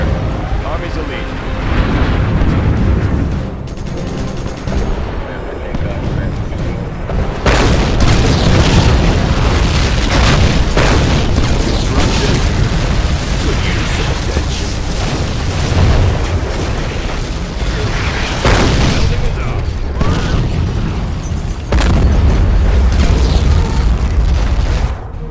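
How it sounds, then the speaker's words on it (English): Heavy, rumbling cruise missile explosions in C&C Generals Zero Hour, a NATO versus GLA battle, loud and sustained with repeated deep booms layered over continuous battle noise and occasional unit voices. "Cruise missile ready. Preparing launch cycle."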